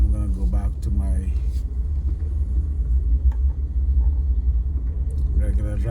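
Four-wheel-drive car on a snowy, icy road, giving a steady low cabin rumble of engine and tires throughout while a person talks over it.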